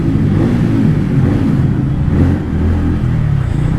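A TVS Ronin 225 motorcycle exhaust idles close by, a loud, steady low thumping rumble with a slight dip and recovery partway through, no voices over it.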